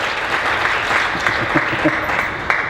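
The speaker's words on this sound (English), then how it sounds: "I think that was worth a round of applause." Audience applause for a speaker at a COP24 climate adaptation panel, a steady wash of clapping filling the room, with a few voices mixed in underneath.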